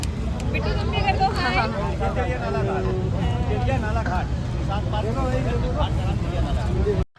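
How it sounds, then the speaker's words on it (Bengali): A double-decker launch boat pulls away on the Ganges at Varanasi, its engine a steady low rumble throughout, almost buried under close, continuous chatter from the crowd of passengers on board. "লঞ্চ ছেড়ে দিয়েছে"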